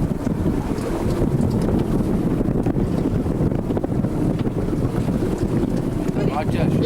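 A ski boat out tuna fishing at Protea Banks runs on one motor, its engine drone buried in constant roaring wind buffeting and water rush, loud and unbroken throughout.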